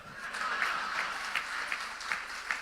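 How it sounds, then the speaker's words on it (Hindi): Audience applause in a Hindi television studio debate, a steady wash of many hands clapping with recurring louder bursts, moderately distant and without speech. "सब इधर ताली लगा रहे हैं"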